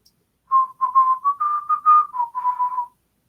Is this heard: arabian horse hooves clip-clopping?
no